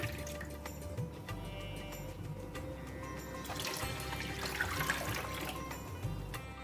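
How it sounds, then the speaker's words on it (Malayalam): Seven cups of water poured into a cooking pot to boil rice for jaggery rice, a continuous close splashing stream that swells louder midway. "ഒരു പാത്രത്തിലേക്ക് ഏഴ് കപ്പ് വെള്ളം ഒഴിച്ചു കൊടുക്കുന്നുണ്ട്"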